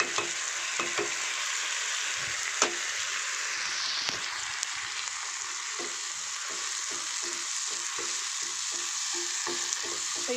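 Toor dal fries in a pan with a soft, continuous sizzle while a spoon stirs it, giving repeated light scrapes and taps over the hiss, nearby and without speech.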